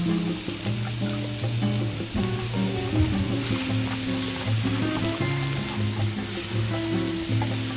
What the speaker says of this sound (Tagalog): So, una magigisa tayo. Gisa tayo ng 1 onion or sibuyas.